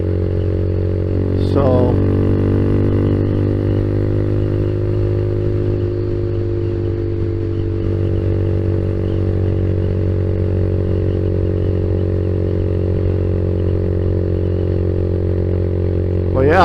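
A Honda Z125 motorcycle idling after its computer recall update: a steady, close, even engine drone holding one pitch, with brief blips of revving at the start and end and someone talking at moments.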